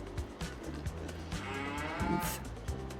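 Cows feeding in the video game Farming Simulator 22 moo repeatedly, several moos overlapping over a steady low game background, loud and close.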